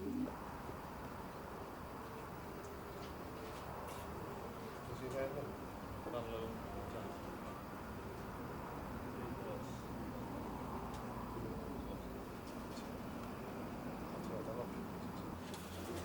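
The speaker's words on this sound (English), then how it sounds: "It is a good pigeon, very good pigeon." Pigeons cooing inside a racing pigeon loft, soft low murmuring coos and rustling that run continuously at a gentle, steady level with no clear talking.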